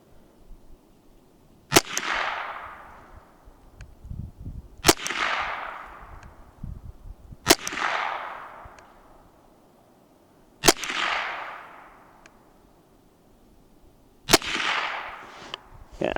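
Five sharp rifle shots from a Mossberg 702 Plinkster firing Remington Thunderbolt rounds, spaced a few seconds apart, each loud crack followed by a rolling echo, with no talking between them.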